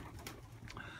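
Pigeons cooing softly in a loft, a faint, low murmuring call repeated over a quiet background with no one speaking.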